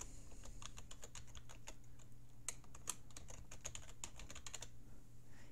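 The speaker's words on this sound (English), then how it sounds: "let's go ahead and put in our email address." Typing on a computer keyboard while entering an email address, a quiet run of irregular key clicks over a steady low hum, with a few sharper taps standing out midway.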